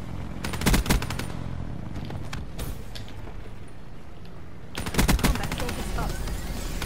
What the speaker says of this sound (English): I'm shooting kids through fucking walls, like, confirmed